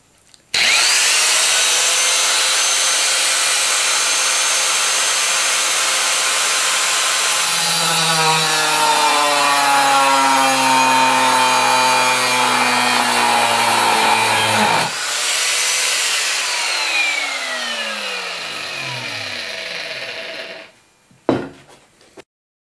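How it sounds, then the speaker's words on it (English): A handheld portable cutoff saw cuts along marked lines on a steel knife blank, a loud, close, continuous high grinding whine lasting about twenty seconds, with the pitch dipping and rising as the blade loads and spins down at the end. "the next step now is to cut out along the Sharpie marks with the cutoff saw"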